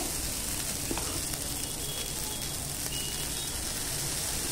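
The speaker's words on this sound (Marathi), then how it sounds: "तेल लावून झालं ना की हे बॅटर आहे ना ते आपण असं टाकायचं आहे" Batter sizzling steadily on an oiled pan during traditional Konkan cooking for Janmashtami, a continuous even hiss with faint scraping ticks and no talk.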